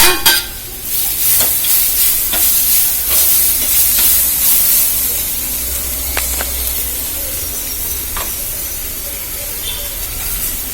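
Tomatoes tipped into a hot pan for an evening snack, a loud burst of sizzling and hissing at first that settles into a steadier fry, with a few stirring clicks and faint background voices.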